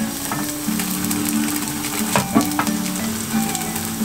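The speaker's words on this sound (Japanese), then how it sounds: "今度は蓋をせずに時々ヘラで押し当てながら焼き色がつくまで3分ほど焼いていきます" Tofu and maitake mushroom pancake frying in a pan, a steady close sizzle with a low hum beneath and a few brief scraping presses of a spatula near the middle.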